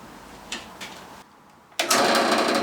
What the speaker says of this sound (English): here we are at the drill press. Just going to drill a pilot hole first.